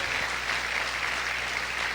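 A church congregation claps together in a dense, steady wash of applause, loud and sustained throughout without gaps.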